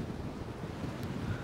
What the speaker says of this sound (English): Well, look how windy it is now.